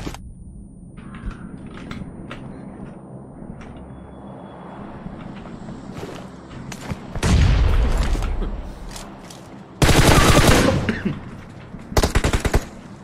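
Video game battle with a grenade blast and gunfire: scattered clicks and sharp shots build to a heavy explosion, then bursts of rapid automatic fire, close and loud.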